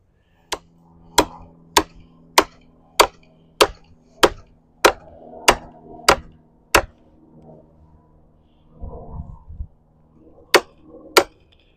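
Sharp, loud chopping strikes splitting a juniper log for a self bow, about a dozen evenly spaced blows with a short pause before two final hits, close and without talk.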